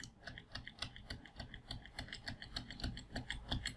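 Computer keyboard keys click in quick, close succession with crisp, rhythmic taps, clearly audible against a quiet background.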